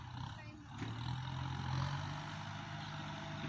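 A farm tractor idles in an orchard being levelled for durian planting, its low engine hum running steady and unbroken for the whole stretch while someone talks over it.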